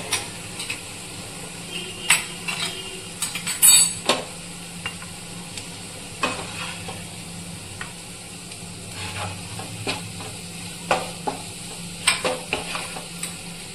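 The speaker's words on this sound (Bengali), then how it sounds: "এবার মশলাটা কিছুক্ষণ নাড়াচাড়া করার পর, মোটামুটি 2 থেকে 3 মিনিট মতো একটু নাড়াচাড়া হয়ে যাওয়ার পর আমি কিছুটা মশলা তুলে রাখবো" Spice masala for chicken chop being stirred in a pan, with a low sizzle under repeated scraping and clinking of a spoon against the metal, irregular strokes at close range.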